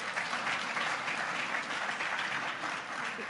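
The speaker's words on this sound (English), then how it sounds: "Rather muted applause there." Subdued audience applause at a 2010 evening discussion with Christopher Hitchens and Salman Rushdie at the 92nd Street Y, a soft continuous patter of hand claps lasting a few seconds with no voices.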